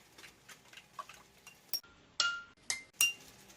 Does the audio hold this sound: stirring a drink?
yes